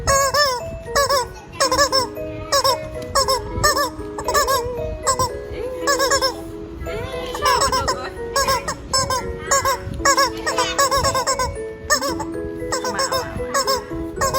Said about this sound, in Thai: ได้ยินเสียงไก่โอกแล้วจะรู้สึกยังไง